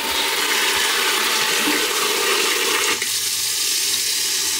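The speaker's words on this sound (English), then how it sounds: "So I'm just going to put some warm water in it." Warm water gushes from a sink tap into a small Temu portable washing machine, a loud steady rushing fill that shifts in tone partway through, with no voices.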